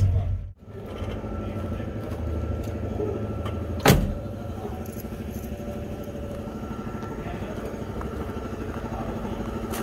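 Car being maneuvered at low speed, a steady engine hum throughout with a brief dip near the start and a sharp knock or door-like clunk around four seconds, faint voices in the background.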